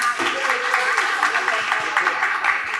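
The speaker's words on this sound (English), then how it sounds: "please give a big round of applause to all of our speakers again." Conference audience at a medical meeting on fistula-in-ano gives its speakers a round of applause, a steady moderate wash of many hands clapping throughout the short stretch.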